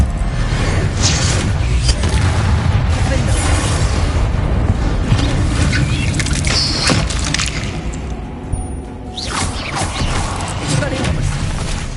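A spell cast in the video game Hogwarts Legacy, with a dense, loud magical whoosh and crashing boom layered over busy game sounds and a voice speaking.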